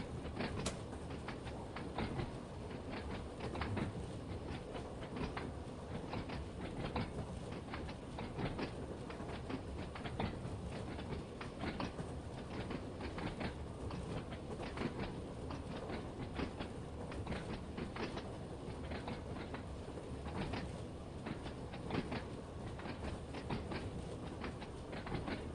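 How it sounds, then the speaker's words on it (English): Continuous rolling rumble and rhythmic clatter of a train running on tracks in the Train Sim World 2 game, steady and fairly loud throughout with no talking. "Right, let's slow the train down,"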